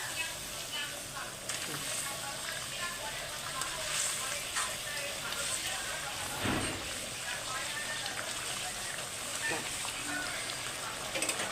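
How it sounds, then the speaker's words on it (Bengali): Pieces of katla fish go into a boiling fish-head curry, with a steady sizzling, bubbling hiss throughout and a brief louder splash partway through. "ঝোলটা ফুটে উঠেছে, এবার মাছ দুটো আমি দিয়ে দিচ্ছি।"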